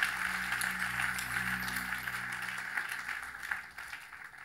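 A church congregation claps in a fairly steady rhythm, the sound moderately distant and soft, with a low hum underneath that fades out partway through.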